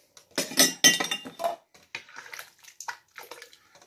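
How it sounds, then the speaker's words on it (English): A spoon stirs sugar into corn chowder in a pot, giving a few irregular scrapes and clinks against the pot up close, alone without talk. "Stirring that in."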